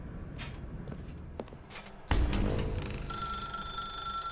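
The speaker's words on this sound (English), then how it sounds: "Now pick up the phone" In The Stanley Parable video game, a telephone starts ringing after a heavy thud, a steady electronic ring that keeps going over room tone, preceded by scattered footsteps and bumps.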